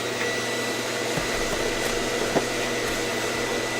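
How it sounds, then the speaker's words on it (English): A vacuum cleaner fitted with a long Kirby hose runs steadily during a Dyson DC17 teardown, a close, constant whooshing drone with a few faint knocks as debris is sucked up. "let me vacuum some of this stuff"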